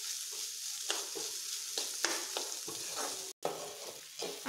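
Onion, tomato and garlic sauté in a pan, a steady close sizzle broken by scraping stirs, with one brief gap in the sound near the end.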